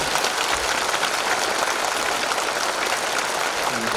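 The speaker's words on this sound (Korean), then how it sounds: "모든 성도들에게 한번 박수를 쳐드리겠습니다" A church congregation claps continuously at a thanksgiving service, dense and loud applause filling the whole stretch without pause.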